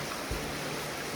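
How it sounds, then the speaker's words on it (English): A small trail stream flows nearby, a constant broadband rush of water with a soft thump near the start, steady and fairly quiet throughout. "Streaming water?"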